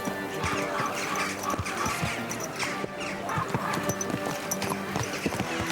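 Horse hooves clip-clop steadily in Kingdom Come: Deliverance II, with irregular close thuds, a brief whinny and soft ambient noise.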